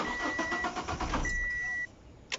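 Car engine cranking with a rapid churning starter whir and a steady alarm-like tone, then cutting off abruptly into near silence, with a sharp click at the end.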